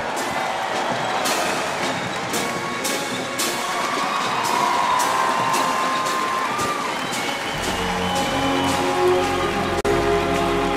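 Large outdoor crowd applauding and cheering a band at the U.S. Army's 250th anniversary parade in Washington, a steady dense roar of clapping that continues throughout, with a low rumble entering near the end.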